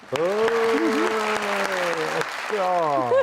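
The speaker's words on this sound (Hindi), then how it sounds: "ऐसी बातों पे तालियां नहीं बजाते, गालियां देते।" An audience claps steadily in the background while someone talks loudly and continuously over the applause.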